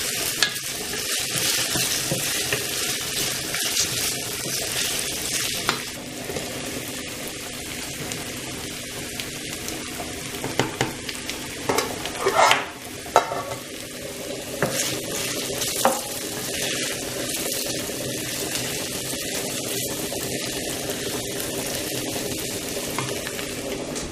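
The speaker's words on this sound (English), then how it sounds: "So I'm also adding a teaspoon of garlic. Just let everything cook." Garlic, onions and vegetables fry in a pan with a steady, close sizzle, broken by occasional scraping stirs and clinks of a utensil.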